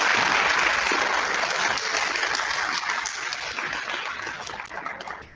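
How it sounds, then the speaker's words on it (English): Audience applause at a school district ceremony honoring an employer with a Patriot Award: steady, dense clapping from a crowd, loud at first and gradually thinning toward the end, with no talk over it. "give him a round of applause for everything"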